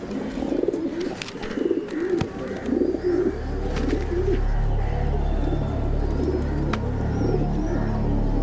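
Pigeons on an open rooftop terrace give soft, repeated throaty coos, close by, over a low steady background hum.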